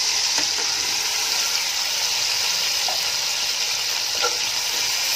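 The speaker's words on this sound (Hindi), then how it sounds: "और इसके साथ ही मैं इसके अंदर चिकन डाल दूंगी।" Chicken and garlic frying in hot oil in a pan on a stove, giving a steady close sizzle with a soft hiss and faint stirring clicks, no voices.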